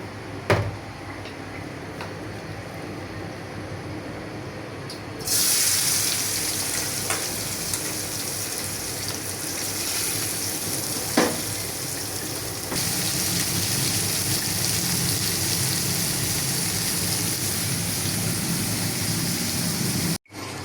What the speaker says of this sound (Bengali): মাছগুলোকে ভেজে নিলাম।